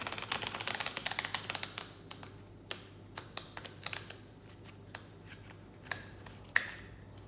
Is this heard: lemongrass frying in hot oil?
no